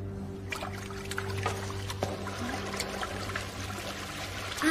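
Water trickles and pours steadily inside an old mine well in a cartoon, a continuous close liquid dribble over a low steady hum, with no talking.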